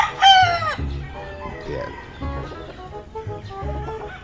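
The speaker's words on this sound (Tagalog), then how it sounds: "Bali, ito yung mga manok." Game fowl on a farm, a rooster's loud crow rising up front, followed by repeated low clucking from several chickens, with brief talk in the background.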